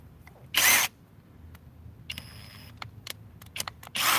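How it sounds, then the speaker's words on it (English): A SKIL brushless 20-volt impact driver set on high drives a car lug nut in two short, loud bursts, with quieter clicks and handling noises in between. "we're gonna do 100 foot-pounds with the SKIL brushless 20-volt impact with USB capabilities"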